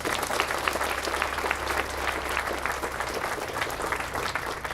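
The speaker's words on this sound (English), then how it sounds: "Can we give them a round of applause?" Steady crowd applause at an outdoor Pride flag raising ceremony, dense continuous clapping holding at an even level for nearly five seconds.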